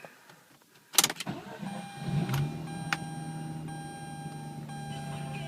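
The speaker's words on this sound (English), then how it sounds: "Turn the car on." A Mazda RX-8 with a replaced engine cold-starts in a garage: a sharp burst as the starter catches, then the rotary engine settles straight into a steady, close, low idle hum with no talking.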